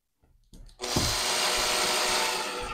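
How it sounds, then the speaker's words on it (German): A power drill drives screws into wood while a French cleat router holder is mounted: after a few quiet taps the motor whirs up sharply and runs in a loud, steady, close whine to the end. "Dann schraube ich es erst auf der anderen Seite fest, dass es nicht verschiebt"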